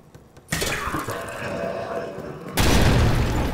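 A bomb blasts in Amnesia: The Bunker, bursting in loud and close after a quiet moment, then a second heavier boom hits and leaves a dense, roaring rumble.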